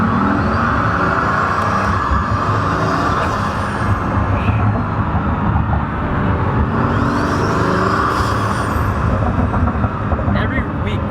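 Pagani supercar engine droning steadily from inside the cabin while driving, a constant low mechanical hum with light whir, with people talking over it throughout.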